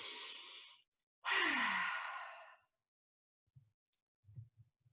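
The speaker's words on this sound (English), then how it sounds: "Let's take a breath together." A slow, deep breath is taken in, then released in a long, audible exhale, close and soft against near silence, followed by a few faint low thumps.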